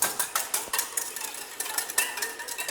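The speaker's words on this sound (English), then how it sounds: "we are going to take our whisk and whisk that up" A whisk beats lime juice and kosher salt in a bowl for apple slaw, making quick, irregular metallic clicks and scrapes against the sides. The sound is close and carries on without pause, with no talking.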